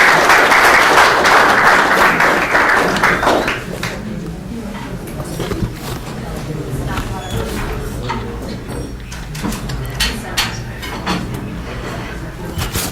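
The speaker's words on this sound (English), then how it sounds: "Let's give a round of applause." A banquet dinner audience applauds a guest speaker, with a loud burst of clapping that fades after a few seconds into room murmur, thumps and people talking.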